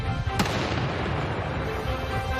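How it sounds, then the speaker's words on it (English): Controlled explosions of suspicious packages holding a volatile substance in a Calgary, Alberta neighborhood, heard as one sharp boom early on over a steady rumbling news-footage background. "controlled explosions rocking an Alberta neighborhood"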